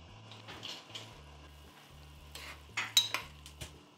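A spoon stirs beef pot roast sauce in a pot with a few soft scrapes and clinks against the metal, faint and close, over a low steady hum.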